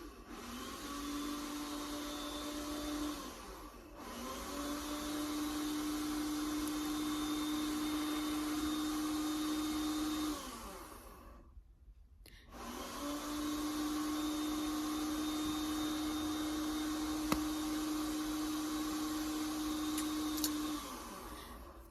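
A household clothes dryer hums with a steady drone and a faint tonal whine, running continuously, then cutting out for about two seconds before starting up again and droning on.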